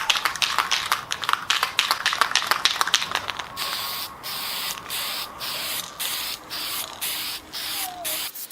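A spray gun hisses in rapid short bursts applying satin lacquer to a barn wood mantel, then settles into longer steady sprays with brief pauses, close and fairly loud.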